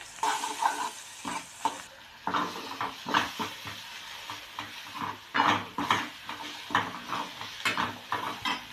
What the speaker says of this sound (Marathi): यात आपण हे सगळं मसाले तिखट वगैरे मिक्स करून घेऊया